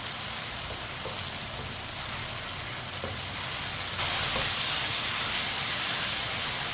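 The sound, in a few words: ridge gourd (tori) frying in a pan, stirred with a spoon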